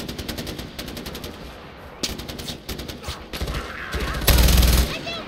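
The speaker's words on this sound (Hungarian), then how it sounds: "És mire lövöldöznek? Arra az egy madárra?" Rapid automatic gunfire from the Far Cry 4 video game, with dense machine-gun bursts and scattered single shots that build to a loud, sustained volley near the end.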